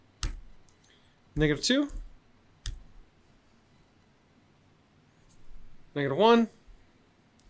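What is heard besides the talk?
typing values into a calculator table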